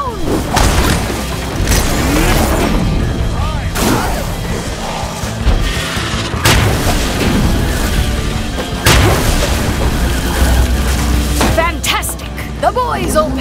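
Gunfire and booming explosions from the Sunset Overdrive video game as players shoot down flying monsters, with dense, continuous blasts and crashes layered under steady game dialogue throughout.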